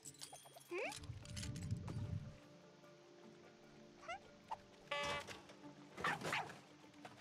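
In the video game TOHU, a dog barks and yips at a cat, giving a few short, fairly faint bursts and whimpers among scattered game sounds, with no talk.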